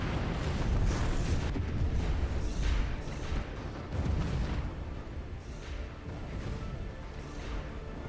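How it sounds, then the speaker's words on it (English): Missiles detonating across a Stellaris space fleet battle, with beams, point defense and strike craft in play: a dense, continuous rumble of overlapping booms and blasts that swell and fade repeatedly, loud and layered without pause. "See those missiles going off everywhere"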